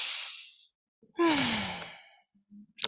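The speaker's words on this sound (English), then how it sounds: "And then we'll throw in some fake yawns." Two exaggerated fake yawns during a virtual meeting warm-up, each a breathy, drawn-out exhale with a voiced sliding tone, separated by a brief pause, close to the microphone.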